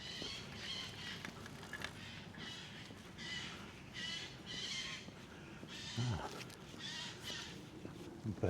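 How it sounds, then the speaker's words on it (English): Crows caw loudly and repeatedly in harsh bursts outdoors, a raucous squabbling flock keeping up steady calls over faint background noise. "Birds having a conniption round here"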